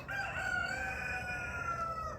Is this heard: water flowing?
no